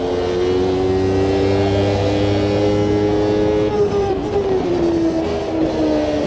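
Formula Classic Gen 2 race car engine in the Automobilista 2 racing game, a steady high-pitched drone that holds and then dips slightly as revs fall, loud and continuous with no talking.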